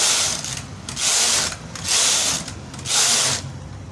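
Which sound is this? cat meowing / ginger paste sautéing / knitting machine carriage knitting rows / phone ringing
knitting machine carriage knitting rows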